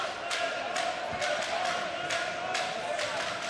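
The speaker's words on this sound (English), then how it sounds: "You can hear the traveling German fans in this Azur Arena." Travelling German fans cheer in the Azur Arena during a men's wheelchair basketball game against Iran, a steady crowd roar with rhythmic chanting and periodic clap-like bursts beneath the din.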